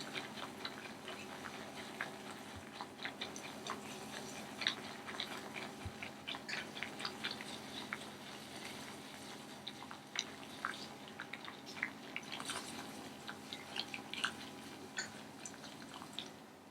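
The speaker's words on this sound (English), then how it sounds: "So I wanna make sure that I'm stirring the whole time" Quiet, irregular clicks and soft scraping of a utensil stirring boiling grits from freshly milled corn in a pot, over a faint steady bubbling hiss.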